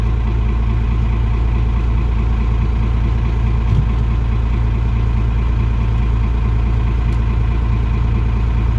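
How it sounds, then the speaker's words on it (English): A Ford car engine runs steady and loud close by, a continuous low rumble with no clear rise in revs, alone without talk. "Try to rev her up."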